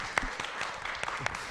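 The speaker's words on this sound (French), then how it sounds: "Tonnerre d'applaudissements." A small radio studio audience claps for a show's guest, Jean-François Caron. The applause is light and scattered, with separate claps standing out over a soft background bed.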